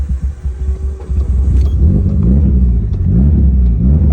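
A Mitsubishi Lancer Evo 8 engine with a hard-starting, stalling idle is given gas and revs up, a loud, close, continuous low rumble that swells and holds steady.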